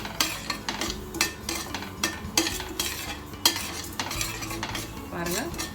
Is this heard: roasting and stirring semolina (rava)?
yes